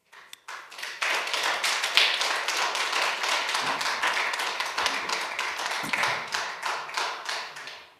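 Audience clapping fills a city council special session, a dense, steady burst of many hands starting abruptly and continuing loud and unbroken for several seconds with no speech over it.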